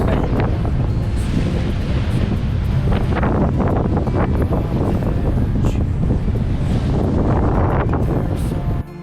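Strong wind buffets the microphone aboard a sailboat motor sailing across an open stretch of water, a loud continuous roar with surf and hull wash mixed in, steady throughout with no voices.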